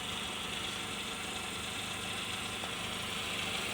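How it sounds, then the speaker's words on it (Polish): A 1997 Mercedes C180 petrol engine idles steadily and quietly, with a faint, even ticking from the injectors over a constant low hum. "Słychać właściwie jedynie delikatnie wtryskiwacze z paliwa."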